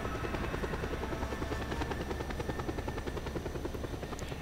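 Helicopter in the video game Just Cause 2, a continuous close rotor roar with rapid even blade chop and engine whine, loud and unbroken with no talking.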